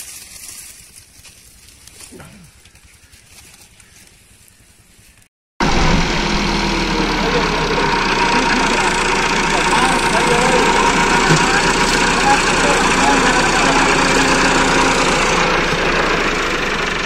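Two tractors idling after arriving to help pull out a sugarcane trolley stuck in mud; after a quieter opening the engines rumble loudly and steadily, close by, for the rest of the clip.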